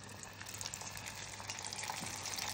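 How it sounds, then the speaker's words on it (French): Floured sardines fry in hot oil with a dense, steady crackling sizzle and small bubbling pops, close and continuous without any speech. "Et hop, on va les mettre dans l'huile frite."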